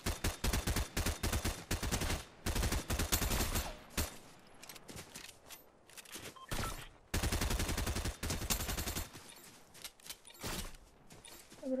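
Rapid automatic gunfire in the video game Fortnite, long dense bursts separated by brief gaps and scattered single shots, loud and close with no talk.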